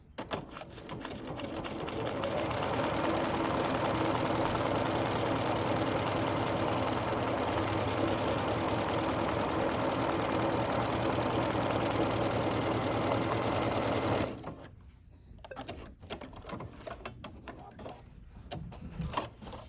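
A Bernina sewing machine stitches a buttonhole on heavy fabric, a loud, close, steady whirring and rapid needle chatter running for about fourteen seconds before stopping abruptly, followed by quieter handling sounds.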